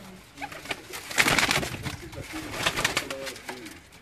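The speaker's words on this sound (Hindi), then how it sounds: "ये शेख सोना भाई की ये जो कबूतर हैं मैं आपको दिखा रहा हूँ" Pigeons in a loft coo repeatedly at close range, their throaty rolling calls overlapping in a loose rhythm, with a few faint voices and shuffling in the background.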